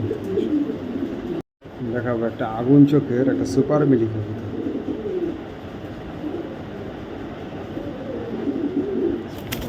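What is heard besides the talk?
racing pigeon cooing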